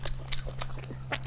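Close crunchy bites and chewing on spicy beef ribs with bone marrow and onions, several sharp crisp crunches in quick succession over a faint steady hum.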